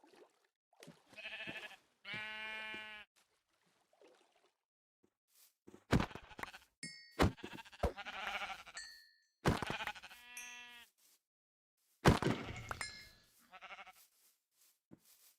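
Sheep in the Minecraft modpack SevTech Ages bleating several times, clear tonal baas separated by silences, mixed with short game chimes and hit sounds.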